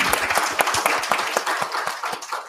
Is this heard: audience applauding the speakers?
yes